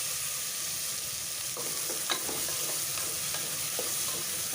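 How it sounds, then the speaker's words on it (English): Tomatoes frying in a pan with rock salt for a drumstick and potato curry, giving a steady close sizzle with a few scattered stirring clicks and no talking. "The tomatoes are frying up."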